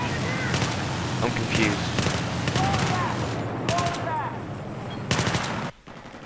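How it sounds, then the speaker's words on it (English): Battlefield 3 gunfire in several rapid automatic bursts, loud and close with short gaps between volleys, among battlefield noise, and a voice talks briefly. "Now I'm shooting at him, and it's not doing anything."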